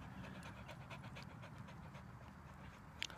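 A puppy pants quickly and evenly, close and faint, over a low background rumble, with a brief click near the end.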